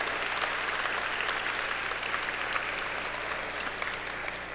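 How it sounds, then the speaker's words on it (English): Steady applause from a large audience at an aviation hall of fame induction ceremony, an even, continuous wash of clapping with no voices. "I'd like to give them a big round of applause"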